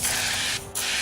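A steady pressurized hiss of spray adhesive from a canister hose sprayer, briefly cutting out near the end before resuming at full strength, close and loud.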